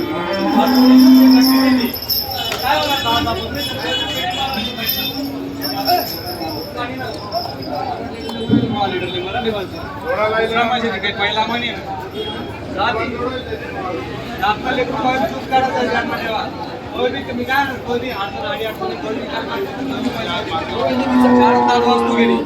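Cows, including Gir, Jersey and HF breeds, moo repeatedly amid a busy crowd of people talking at the Dhule cattle market, with the lowing cattle close by and other animal sounds mixed in.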